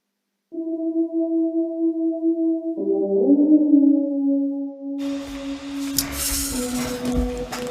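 An Alchemy preset synth lead line, panned left and right, plays sustained tones that step to new pitches, joined partway by a dense, bright full mix.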